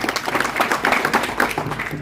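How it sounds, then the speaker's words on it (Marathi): Audience at a public political meeting clapping: a short, dense burst of applause from a crowd, steady and fairly loud throughout. "त्यांच्यासाठी टाळी वाजवा"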